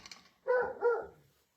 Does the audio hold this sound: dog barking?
yes